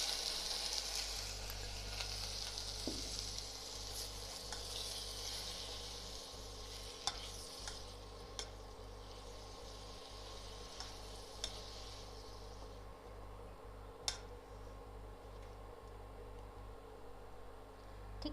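Roughly chopped tomatoes sizzling in a pan for tomato soup: a steady, soft frying hiss with low hum beneath and a few faint clinks from stirring.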